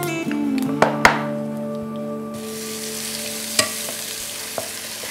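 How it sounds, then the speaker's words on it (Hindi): Chopped ginger drops into hot oil with sizzling cumin, setting off a bright crackling sizzle, with a few sharp knocks and taps of a spoon against the pan along the way. Nobody speaks. "अब डालो अदरक"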